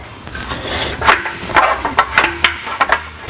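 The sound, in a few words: rubber mallet knocking apart Jeep Wrangler JL exhaust pieces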